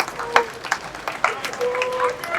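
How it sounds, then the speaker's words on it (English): Crowd at a government estate commissioning event gives scattered, uneven claps and cheers, loud irregular bursts mixed with voices talking and calling out. "he deserves round of applause"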